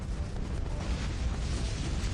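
Mortar fire in the tower defense game Bloons TD 6 gives a dense, continuous booming rumble of overlapping blasts, loud and close throughout.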